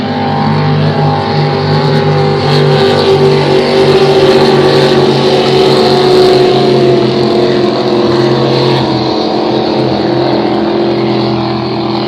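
Racing powerboats roar through a regatta final, with a loud, continuous high-revving engine drone that holds steady for the whole stretch and no voices over it.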